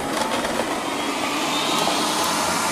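A Liectroux robot vacuum cleaner picking up scattered crumbs on lino gives a steady close motor and suction whir, with faint crackles mixed in and no talking.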